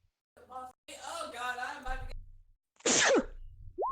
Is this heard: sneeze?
yes